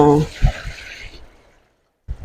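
Water splashes from a dipper into a laundry basin for about a second, a close, bright pour with a couple of low thumps before it cuts to silence.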